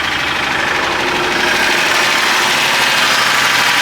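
A loud, rough Dodge Charger engine idling close by after a cold start, a steady rumbling drone with a slight uneven knock.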